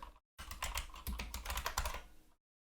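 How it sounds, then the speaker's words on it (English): Rapid clicking of a computer keyboard as text is typed, a dense burst of close, crisp keystrokes lasting about two seconds with a short pause at the start, no voices. "Once you start typing your text"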